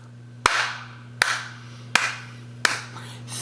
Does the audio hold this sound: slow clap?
yes